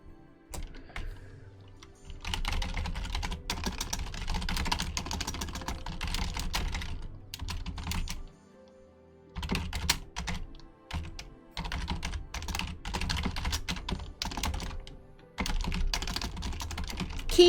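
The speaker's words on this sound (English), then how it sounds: "Keyboard ASMR." Rapid typing on a computer keyboard, close and steady, in long bursts of clacking keys broken by a few short pauses, with no voices.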